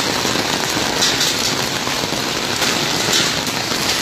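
A hailstorm with torrential rain in Arambagh pours down as a dense, steady roar of broadband noise, loud and unbroken, with faint harder ticks scattered through it and no voices.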